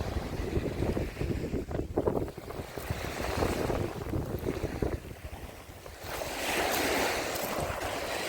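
Sea waves rush and wash in continuously on the shore at Odesa, mixed with gusty wind buffeting the microphone, building to a louder surge near the end.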